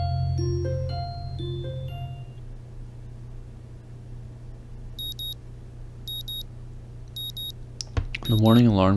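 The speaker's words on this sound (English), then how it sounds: "The morning alarm goes off" A morning alarm clock in the video game Katawa Shoujo gives a few short electronic beeps, a brief repeating burst in the middle of the clip over a low steady hum, and a voice starts up near the end.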